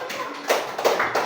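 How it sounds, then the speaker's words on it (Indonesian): A class claps in applause for a student named Neva, a short burst of scattered hand claps in a classroom, close and moderately loud. "tepuk tangan untuk Neva"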